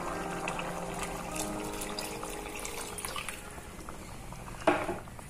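Coconut milk pressed from half a coconut being poured into a simmering seafood panthal gravy of kanava squid, kadamba fish and prawns, a steady liquid wash and bubbling throughout with a sharper splash near the end.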